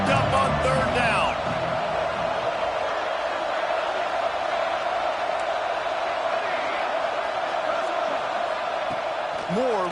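A stadium crowd roars steadily behind the defense on a third down at a football game, a loud continuous wash of cheering and whooping with commentators talking over it throughout.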